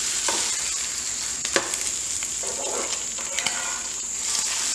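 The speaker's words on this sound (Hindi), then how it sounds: "गैस को थोड़ा तेज़ कर लेंगे और इसको टर्न कर लेंगे।" Egg roll-ups fry in a pan over raised heat, giving a steady bright sizzle throughout, with a few sharp scrape and stir clicks as they are turned.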